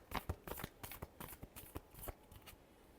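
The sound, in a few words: shuffling tarot cards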